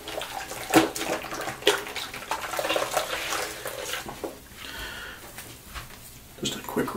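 Water splashes and runs from a tap in short bursts for a cool rinse after shaving, with some shuffling and handling noises in between, fairly close.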